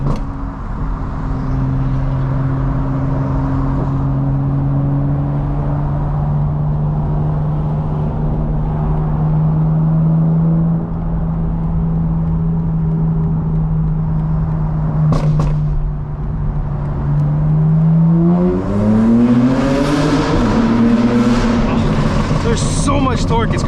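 A 900 hp 2025 BMW M4 Competition in city driving holds a steady loud engine drone heard from inside the cabin, then climbs sharply in pitch as it accelerates near the end, with a brief click midway.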